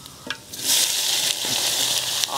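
Dried red chillies and onion fry in hot oil in a pan while cooking a big fish outdoors near a quarry, giving a loud, close hiss and crackle that swells as they drop in, with a few stirring clicks.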